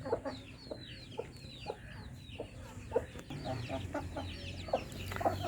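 Hens cluck in scattered, soft bursts with faint chirps from chicks, over a low background hum.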